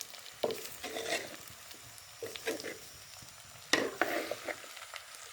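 Jackfruit pieces fry in hot oil in a village kitchen, a steady low sizzle broken by irregular bursts of scraping and stirring, with no voices.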